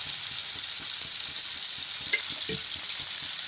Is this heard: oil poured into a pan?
yes